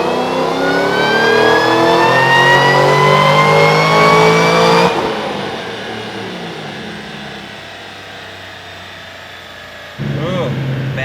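A supercharged 2014 Shelby GT500 roars through a dyno pull, engine and supercharger whine climbing steadily in pitch before cutting off into a lower settling rumble, with a short rev near the end.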